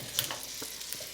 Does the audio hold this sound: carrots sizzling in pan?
yes